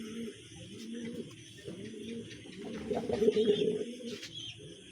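Male pigeon cooing repeatedly at a caged female set before him, a steady run of low throaty coos and calls with soft chirps nearby, rising briefly louder toward the middle.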